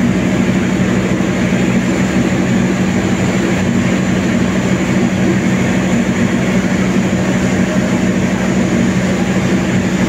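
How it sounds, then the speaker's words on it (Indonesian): Steady, loud low rumble of the Argo Semeru passenger train stopped at Solo Balapan station, with a constant hum and broad noise throughout, no voices. "kereta Argo Semeru yang akan berangkat menuju ke Jakarta"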